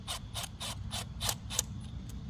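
A wrench ratchets in quick, evenly spaced clicks while loosening a bolt on a Kawasaki Eliminator 250 motorcycle, about seven close, crisp pawl clicks over a low background hum.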